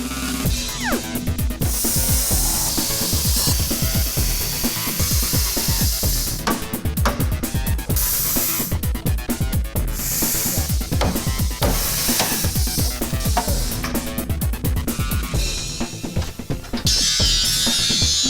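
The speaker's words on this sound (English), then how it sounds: "I need my plasma cutter." Loud, continuous harsh hissing and crackling from a plasma cutter cutting thin steel, with sputtering bursts and metallic sizzle running throughout.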